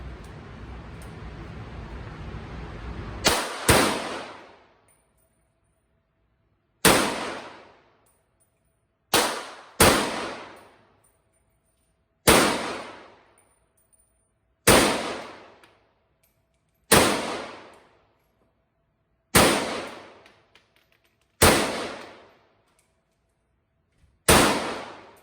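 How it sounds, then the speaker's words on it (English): A Vz52 rifle fires ten rounds from its magazine, each shot a sharp loud crack with a short decaying tail, spaced a few seconds apart and ringing out alone after a stretch of low background rumble. "Finally got it to go through all 10 rounds in the mag."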